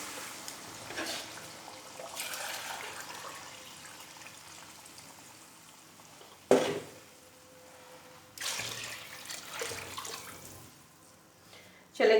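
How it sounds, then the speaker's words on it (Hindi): Water poured into a pot of soaked rice for a one-kilogram batch in a home kitchen, a soft running trickle with louder splashy surges in between, no talking. "चले जी, पानी तो डाल दिया हमने"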